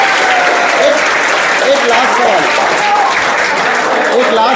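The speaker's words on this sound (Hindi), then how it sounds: "बजाओ ताली।" A classroom audience of students claps together, a loud, dense burst of applause that carries on steadily throughout, with some voices calling out over the clapping.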